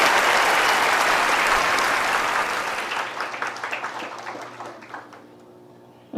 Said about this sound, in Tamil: அவருக்கு ஒரு பலத்த கைதட்டி கொடுக்கலாம்